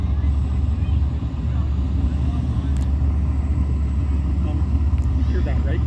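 A jet-powered truck built for 220 mph runs with a loud continuous low rumble and a thin high whistle riding over it, while people talk nearby.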